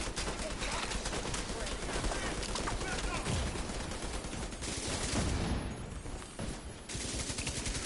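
Rapid gunfire from several weapons in The Division 2 fills the scene in dense bursts, with voices talking over the shooting throughout.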